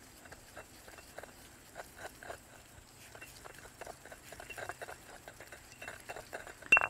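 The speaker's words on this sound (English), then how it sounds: "We start off with some garlic and some palm sugar, and just mix those together just to break up the palm sugar." Garlic and palm sugar are stirred and pressed together in a bowl, producing soft irregular tapping and scraping strokes, quiet and close, building slightly toward a sharper knock at the end.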